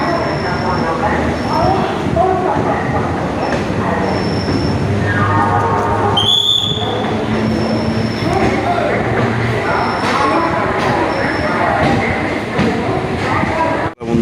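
Loud continuous rumble of a train on rails from inside, with wheel squeals and a rising whine, and voices talking underneath, in Kolkata.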